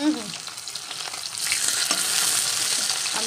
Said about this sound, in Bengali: আমি এখানে মাছগুলো ভেজে দিই